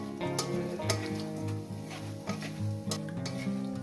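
Whole garam masala and dried chillies crackle and sizzle in hot oil as a tempering, a soft frying hiss with faint stirring taps, mostly under background music.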